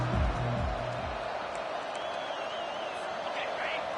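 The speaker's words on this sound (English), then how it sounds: "This crowd bringing the energy and noise early." Roaring stadium crowd in a college football video game, a broad steady wash of cheering and whoops with an announcer talking briefly over the start.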